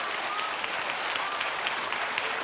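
A studio audience at a television talk show claps steadily, a dense, even wash of applause heard alone at moderate distance with no voices.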